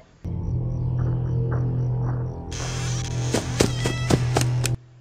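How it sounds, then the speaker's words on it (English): Heavy thudding footsteps of a monster, several irregular thumps over a low mechanical hum, moving away in the ambient soundscape of the game Five Nights at Freddy's 4. "Now here's the sound of him walking away."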